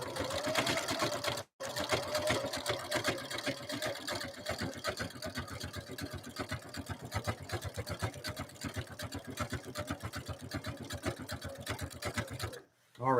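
A Husqvarna Viking sewing machine stitches at a fast, even rhythm, its needle clatter close and steady, with one brief pause early on and another near the end.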